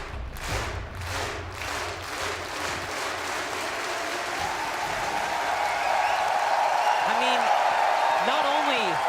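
An esports crowd at the Rainbow Six Montreal Major finals cheers and claps in a rising roar, with rhythmic clapping early on and a caster talking over it, and the noise swells louder toward the end.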